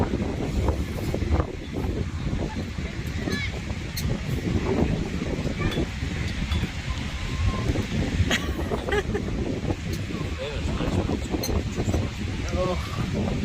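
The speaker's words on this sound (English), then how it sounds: "I hope they can even hear us with the wind." Strong wind buffets the microphone at a beach, a constant rough roar with gusty bursts that runs throughout.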